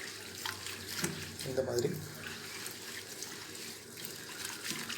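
Curry leaves and gooseberries swished and rinsed by hand in a bowl of water with turmeric and rock salt, giving close sloshing and trickling under a woman's speech.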